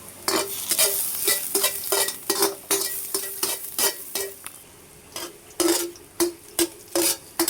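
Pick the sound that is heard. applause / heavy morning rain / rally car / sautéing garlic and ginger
sautéing garlic and ginger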